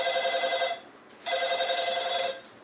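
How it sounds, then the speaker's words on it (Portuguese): A telephone rings twice, each a bright, buzzy electronic trill lasting under a second, separated by a short pause, close and clear with nothing else around it. "Quantas vezes o telefone toca por dia?"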